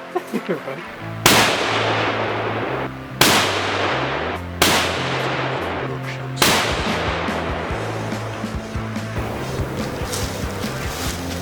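Shotgun blasts through titanium and steel plate outdoors: four loud, sharp reports with ringing metallic tails, spaced a second or two apart, with people talking and reacting in between.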